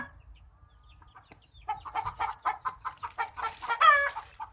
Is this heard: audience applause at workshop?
no